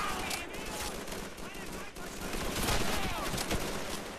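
Dense gunfire from the World War II shooter Call of Duty 3 with German Gewehr rifles, rapid overlapping shots and bursts filling the whole stretch, with someone talking over the battle.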